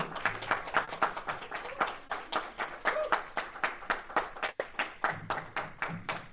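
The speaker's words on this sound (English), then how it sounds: "please give a huge round of applause" Clapping at a Toastmasters club meeting as the next speaker is welcomed: sharp, evenly spaced claps in a steady rhythm of about three per second, fairly quiet and continuing for several seconds.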